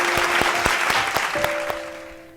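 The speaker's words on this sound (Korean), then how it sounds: "우리 하나님께 영광의 박수 올려드립시다" A children's Sunday worship congregation claps in praise, a run of loud, evenly spaced rhythmic claps over a crowd wash that fades away at the end.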